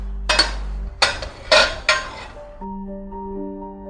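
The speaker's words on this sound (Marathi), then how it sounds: "परत झाकण ठेवून परत त्याला शिजू देऊ" A metal lid clanks onto a cooking pan of pineapple on the stove, a few sharp clinks and knocks in quick succession, close and fairly loud, followed by a steady low hum.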